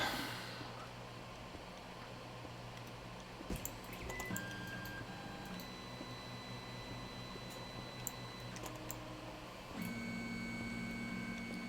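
A 3D printer starting up after a print is launched from an SD card, giving a steady fan hum with scattered beeps and shifting whining motor tones that step up near the end.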